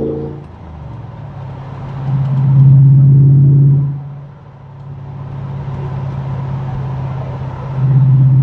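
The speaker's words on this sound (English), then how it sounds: "There's that exhaust again." LS V8-swapped DeLorean exhaust while driving, a steady low rumble that swells in two louder pushes and eases between them, close and continuous with no talking.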